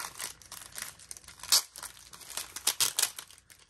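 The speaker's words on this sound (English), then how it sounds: "I like the sound of crinkling plastic" Plastic packaging from a Hobonichi A5 cover crinkles up close in quick irregular bursts, with several louder crackling peaks amid softer rustling.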